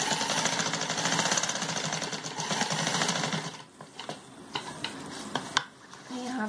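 A sewing machine stitches stretchy, textured kurti fabric pulled taut, a loud continuous whirring run close by that stops partway, followed by light clicks and handling noises.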